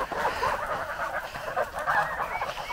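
A flock of ten young white turkey poults let out in a farmyard, giving a steady, overlapping chorus of calls close by with no talking.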